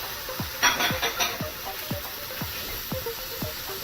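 Ground beef going into a hot pan for spaghetti sauce, with a brief sizzle and clatter near the start, then a steady soft frying hiss under repeated sliding utensil scrapes.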